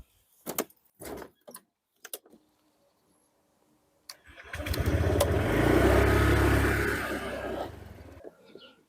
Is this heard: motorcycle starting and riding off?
yes